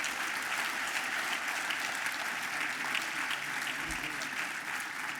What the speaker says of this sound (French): merci et bonne main d'applaudissements à tous les bénévoles de ce soir